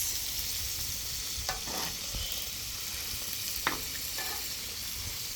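Cracker-crumbed pork cutlets fry in oil on a Blackstone griddle, giving a steady close sizzle with a few soft scraping stirs and no voices.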